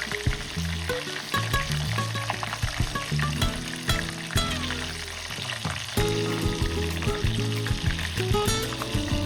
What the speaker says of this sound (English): The sizzling sound and the delightful aroma of cheese and spices filled the kitchen.